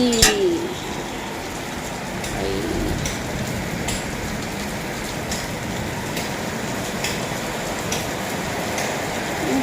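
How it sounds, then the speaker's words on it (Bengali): Steady, dense rain pours down continuously, a broad hiss of drops on surfaces, with a bird briefly cooing early on. "জোরে জোরে নামছে। চলো বৃষ্টি হতে থাক"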